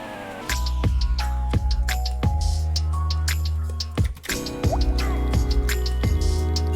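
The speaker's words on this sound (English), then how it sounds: "I like the water drops." Water-drop plinks punctuate a music beat, sharp resonant droplet blips landing on the rhythm over a deep sustained bass line, with clustered drips and a short gap midway.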